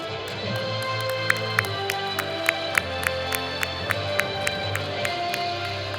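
Applause for a healthcare leader receiving an award, with steady crowd clapping and a few sharper claps standing out in a roughly even rhythm over background music in a hall.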